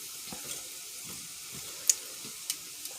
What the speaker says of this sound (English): I'm gonna let that fry up a little bit more.